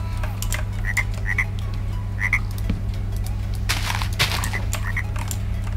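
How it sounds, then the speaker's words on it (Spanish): Frogs croak in short, paired bursts over a constant low hum, repeating every second or so at moderate distance, with a louder rasping cluster near the end. "hay ranas también"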